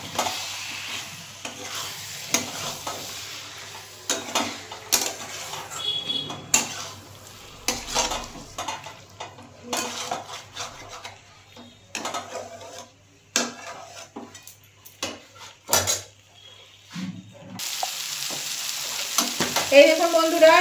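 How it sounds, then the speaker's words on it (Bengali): Chicken stomach sautéed in a pan with soy sauce and tomato sauce, a steady sizzle broken by repeated scraping and stirring strokes of a spoon against the pan, close and fairly loud, with no talk. "এটা দিয়ে আমি আবার একটু কষিয়ে নেব।"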